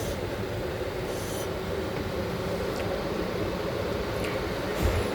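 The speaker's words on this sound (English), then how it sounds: "It's running the radiator fan." A new radiator fan whirs steadily in a 2013 Nissan 370Z with 151k km, a continuous broad, even hum held close with no gaps and no talk.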